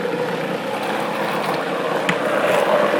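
A blender spins a green smoothie of fruit and spirulina, giving a loud, steady whirring motor roar that runs unbroken from start to finish, with no talking.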